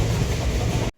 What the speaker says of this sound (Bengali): 13028 হাওড়া কবিগুরু এক্সপ্রেস তার যাত্রাপথ শুরু করলো আজিমগঞ্জ স্টেশনের 4 নম্বর প্ল্যাটফর্ম থেকে।